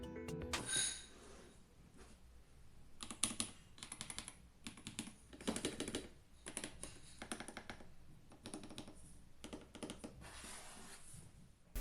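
Bursts of rapid keystrokes on a REDMAGIC mechanical gaming keyboard with TTC V2 switches, crisp clacky clicks close up, coming in short runs separated by brief pauses.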